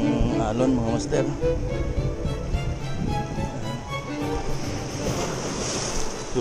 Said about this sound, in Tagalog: Malakas yung alon mga master.